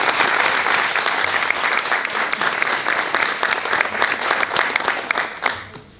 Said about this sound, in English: Please join me in another round of applause for all of our students